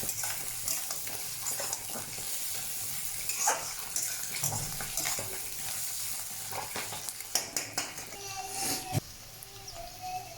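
Okra and fish roe frying together in a pan with no water added, a steady sizzle with stirring and scraping spikes throughout, fairly close and moderately loud, alone without talk.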